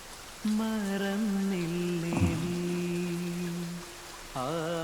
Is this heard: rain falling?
yes